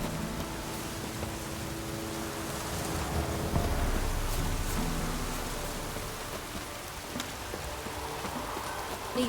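Steady rain falls in The Witcher 3 video game, a constant broad hiss of drops on surfaces that swells slightly midway, with faint background tones underneath and no clear talk.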